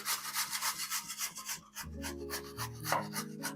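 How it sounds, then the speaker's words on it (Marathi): Cucumber being grated by hand for a traditional Konkani steamed breakfast, giving a steady rhythmic rasping of repeated strokes, close and fairly loud, with a kitchen hum underneath and no talking. "आता किसून घेव्या."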